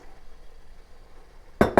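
Two sharp, close clinks of dishes and utensils sound in quick succession as a no-bake cookie mixture is dumped into a bowl, after a second or so of quiet kitchen room tone.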